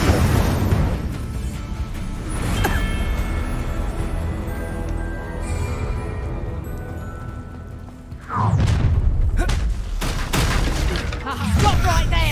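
A fire spell cast in the video game Hogwarts Legacy, a loud whooshing burst followed by sustained crackling roar, with a second rushing blast near the end, over game music and background voice.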